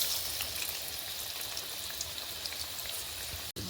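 Food fries in a pan with a soft, continuous crackle and scattered light pops, faint and steady throughout, with a brief dropout near the end.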